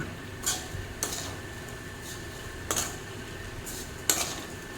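Vermicelli pulao with sugar being gently stirred in a pan: a few soft, scattered scrapes and clinks of a spoon against metal, spaced apart over a quiet, low background, with no talking.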